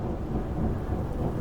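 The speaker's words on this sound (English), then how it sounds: "And here comes the rain." Rain falling during a thunderstorm makes a steady, dense low rumble with a continuous wash of noise, close and loud throughout with no voices.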